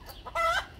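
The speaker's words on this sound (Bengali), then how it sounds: "ওই পাশে কিছু মুরগি রয়েছে" A short, close cluck comes from a chicken kept with turkeys and peacocks on a farm beside a date palm garden in Madina, Saudi Arabia. It is a single loud call with a few fainter clucks around it, and no talking.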